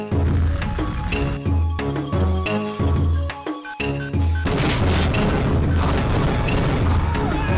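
Explosions and gunfire in the Game Boy Advance shooter CT Special Forces 2 sound as repeated loud, crunchy booms and crashes over a pulsing chiptune music track, followed by a sustained noisy blast.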